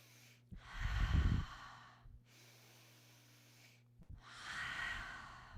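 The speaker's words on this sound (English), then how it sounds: "Taking a deep breath." Deep yoga breaths, a long inhale followed by a slower exhale and another breath, close and soft with clear airy rushes and quiet gaps between them.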